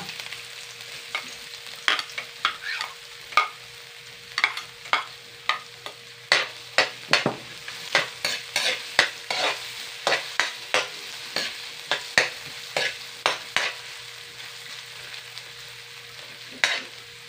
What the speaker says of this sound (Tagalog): Ang ating gigisa ay ang bawang at saka luya.